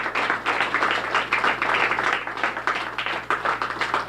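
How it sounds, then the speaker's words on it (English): Applause from the crowd at a trivia awards ceremony, a steady patter of many hands clapping at moderate volume with no one talking over it. "I think they deserve a round of applause."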